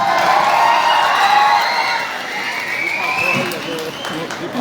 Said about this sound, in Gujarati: જોરદાર તાળીઓથી બ્રિજરાજભાઈને વધાવીએ